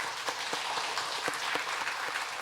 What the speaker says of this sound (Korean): 여기 계신 우리 박수로 환영하도록 하겠습니다.